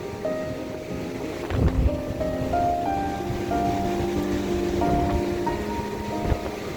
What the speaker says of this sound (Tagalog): ang lakas pa naman ng alon